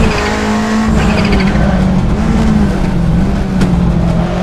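Toyota Celica ST185 rally car on the La Mussara stage in Assetto Corsa, its engine droning steadily and loud throughout with shifting pitch as it accelerates, plus tire scrabble and skid noise; no talking.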